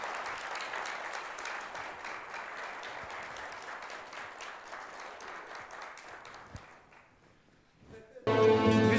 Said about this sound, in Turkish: Alkışlar devam etsin.